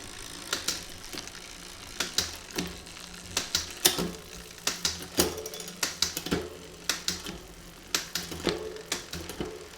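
Sharp mechanical clicks from a SRAM/Box Prime 9 1x9 bicycle drivetrain with an 11-50 tooth rear cassette and narrow-wide chainring as it shifts through the gears, irregular close taps with a faint freewheel ticking between them.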